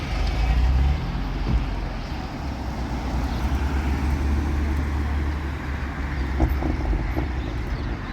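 A yellow Toyota Supra drives past, its engine a steady rumble that holds level and close for several seconds over constant roadside noise.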